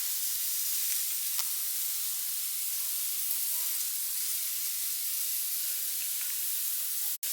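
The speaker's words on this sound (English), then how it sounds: "I don't know if you can hear the dinner cooking in the background" Steady broadband sizzling of dinner frying in a pan on the stove, continuous and moderately loud throughout with a few faint clicks.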